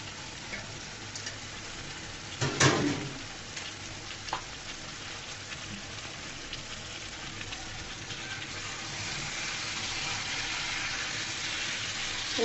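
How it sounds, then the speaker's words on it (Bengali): Chicken, potatoes and pointed gourd sauté for chicken curry in a pan, sizzling in a steady hiss with a louder stir and scrape early on, then a continuous frying crackle that swells near the end. "চিকেন সব একসাথে দিয়ে কষিয়ে নিব।"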